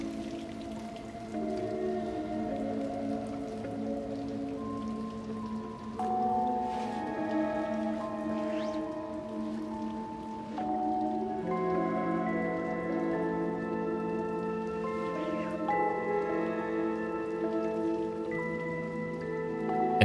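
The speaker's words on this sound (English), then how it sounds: "And just like that, Six can be protected from the rain" Continuous rain patters throughout a scene in the video game Little Nightmares 2, a steady hiss layered under sustained tonal music, with no talk.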